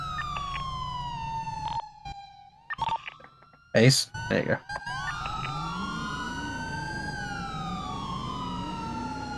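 Emergency vehicle sirens wail and sweep in a 9/11 memorial convoy, broken by short bursts of radio chatter and a brief spoken exchange, then continue with rising and falling tones overlapping.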